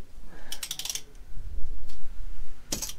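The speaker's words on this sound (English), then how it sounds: "This is a multi-size, multi-fit oil wrench." A multi-size oil wrench works loose the oil filter on a Harley-Davidson M8 Softail, giving quick metallic ratcheting clicks in two short bursts with soft handling noise between, close and fairly quiet.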